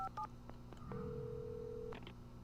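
In the video game Alan Wake, a few quick telephone keypad tones followed by a steady beeping tone that holds for about a second, heard faintly over a low background hum.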